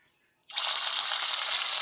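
Balls of papaya kofta dropping into hot refined oil set off a sudden steady hiss of frying that stays loud and even, with no talk over it.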